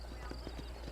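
Hooves of a Kentucky Thoroughbred horse in Red Dead Redemption clip-clop in a quick, even trotting rhythm, faint beneath a low steady hum.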